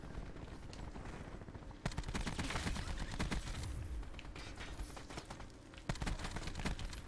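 Rapid bursts of automatic gunfire in a Black Ops 4 multiplayer match, with sharp clustered shots and louder cracks at intervals over a busy game background.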